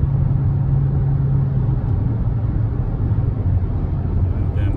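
A 2021 Kia Stinger's smaller four-cylinder engine drones steadily from inside the car as it works through the gears, a loud, continuous low rumble with a slight drop in pitch partway through.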